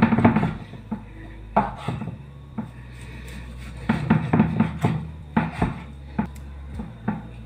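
Kitchen knife dicing slightly fatty pork into cubes on a cutting board for a home-style stew, with a run of close, irregular chopping taps and board knocks separated by short pauses.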